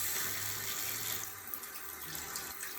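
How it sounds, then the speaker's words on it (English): Coins rinsed under cold running tap water, a steady faucet stream splashing into a sink, close and continuous, with a slight drop in level partway through and no talking. "make sure you rinse them off using cold running water"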